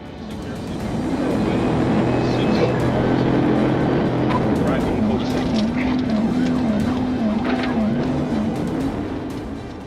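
A police pursuit of a speeding white Nissan sedan on Veterans Parkway and I-516, with a steady, loud rushing engine and road noise alongside a wavering siren tone, sustained throughout.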